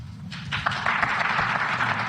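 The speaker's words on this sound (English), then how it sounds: "Not so many claps that time." Sparse clapping from a few people at a political talk, scattered claps rising briefly and then thinning out, fairly close and unaccompanied by speech.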